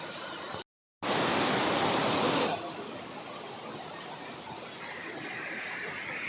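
A waterfall on the trail to Ciguntur peak near Sukamakmur, Jonggol, roars as a steady broadband rush of falling water. It is loud at first, briefly drops out, then settles into a slightly softer continuous hiss.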